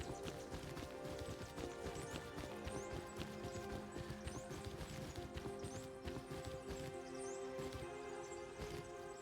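Horse hooves clip-clopping steadily in the survival video game Rust, a continuous quick rhythm of hoofbeats with faint rustling, fairly quiet throughout.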